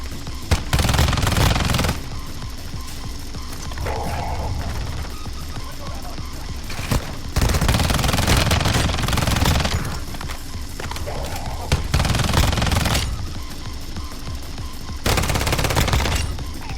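Gunfire from the mobile video game Warzone Mobile, with long loud bursts of automatic fire repeating across the clip and quieter stretches between them, while a player talks over it.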